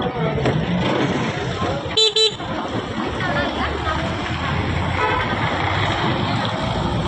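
Steady road traffic roars nearby as a large truck passes, with a short, loud double horn blast partway through.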